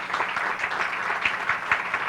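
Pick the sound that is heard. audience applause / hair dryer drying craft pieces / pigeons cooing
audience applause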